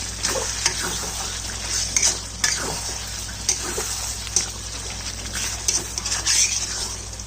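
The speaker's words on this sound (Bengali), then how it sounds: "আলু দিয়ে ভালো করে কষিয়েছি, তেলও বেরিয়েছে" Potatoes being stir-fried with slow-cooked mutton kosha in an oily pan, a low steady sizzle broken by repeated scraping and stirring knocks close by, with no talking.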